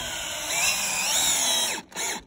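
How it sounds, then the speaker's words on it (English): A cordless drill whines steadily as it drives a screw down into a porch board, close and loud, then briefly cuts out and restarts at the end. "put a screw in my mouth, put the other one on the board, and I drill it down"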